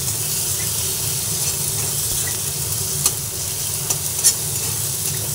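Ginger sizzles in hot oil in a pan while being stirred for a fish-head and Malabar spinach dish. The loud, steady frying hiss carries on alone, broken by a few faint spoon clicks.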